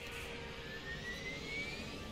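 A quiet, steady jet airplane whine and low rumble in the video game Left 4 Dead, with a thin tone slowly rising in pitch, heard at a distance.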